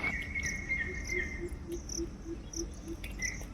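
Crickets chirp steadily outdoors beside a home surrounded by greenery and a garden, with a sustained high insect trill and brief bird-like chirps repeating over a dense background hum.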